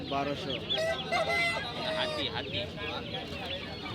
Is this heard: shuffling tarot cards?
no